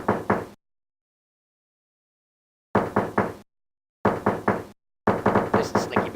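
Repeated knocking on a door in the point-and-click video game Urban Runner, coming in short bursts of several raps each, with silent gaps between the groups.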